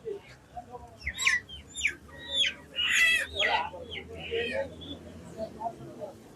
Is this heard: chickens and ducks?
yes